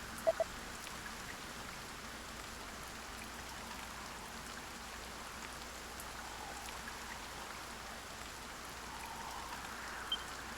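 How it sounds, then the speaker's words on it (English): Soft, steady rainfall in a Dragon Quest I HD-2D Remake scene, a faint even hiss of drops that continues throughout with a couple of tiny clicks near the start. "Lo, the rain doth fall, and soon enough the sun too shall fade."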